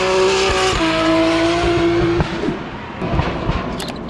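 A drift car slides around a 90-degree corner at full throttle, with a loud, close engine roar and sustained tire squeal, then rough scrabbling as the slide ends.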